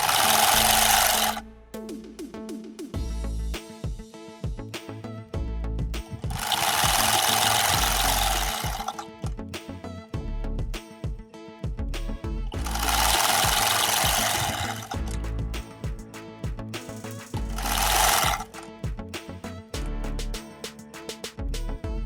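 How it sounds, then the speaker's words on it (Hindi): An electric sewing machine stitches the side seam of a frock in four loud, close bursts of rapid whirring, separated by short pauses with faint handling noises. "अब हम इसकी साइड्स पे सिलाई लगाएंगे।"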